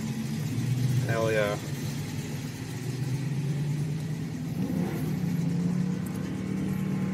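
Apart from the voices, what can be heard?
Infiniti Q45 car engine rolling out at drag strip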